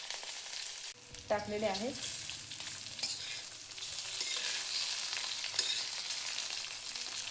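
Potato and semolina vadas fry in hot oil with a steady, close sizzle and crackle, and someone speaks briefly near the start.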